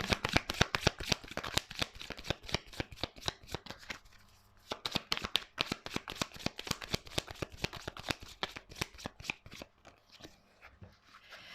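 Tarot cards being shuffled by hand in rapid bursts of crisp riffling and tapping, close up, with a short pause midway. The sound thins out toward the end, and nobody speaks.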